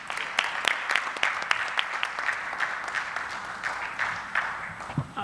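Applause from an audience at a company anniversary event, a sustained patter of many hands clapping throughout, with sharper individual claps standing out and no speech over it.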